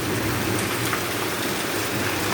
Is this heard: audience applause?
no